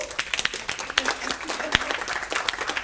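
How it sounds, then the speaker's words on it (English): Scattered applause from an audience at a panel talk, uneven individual claps with sharp isolated hits rather than a dense roar, moderately close, with a little talk mixed in. "Round of applause for your better good"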